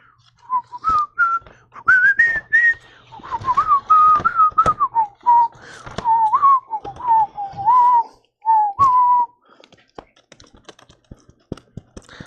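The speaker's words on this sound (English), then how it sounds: "can you please stop whistling?" A person whistles a wavering tune in a vinyl record shop, loud and close, in phrases with short breaths between them, while keyboard taps and clicks sound underneath and trail on alone after the tune stops.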